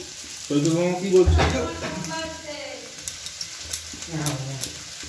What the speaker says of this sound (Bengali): প্রথমে এরকম করে পেঁয়াজটা ভেজে দিয়েছি। এবার এর মধ্যে আলুগুলো দেবো।